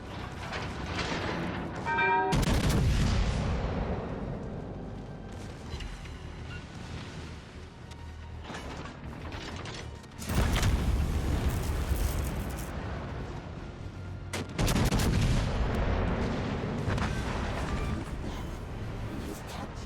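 Heavy naval gunfire in World of Warships Legends, three deep booming salvos spaced several seconds apart, each a loud broadband blast that rolls off into rumbling, wind-like decay between shots.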